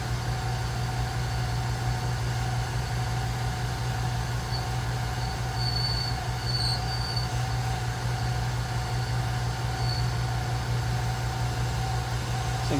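Small metal lathe running steadily while machining a burner adapter, a smooth continuous hum with faint high whine and occasional light metallic ticks.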